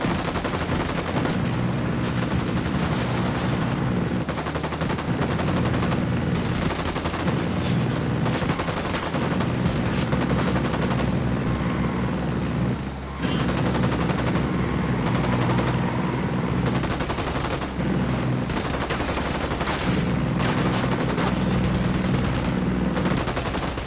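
Sustained heavy gunfire rolls on without a break, dense bursts of automatic weapons layered over a low rumble of engines, loud and close throughout, with no voices.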